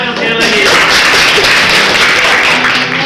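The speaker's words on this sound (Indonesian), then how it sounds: "Tepuk tangan sekali lagi." An audience at a poetry reading breaks into steady, dense applause that holds at full strength for the whole stretch. A voice is faintly heard near the start.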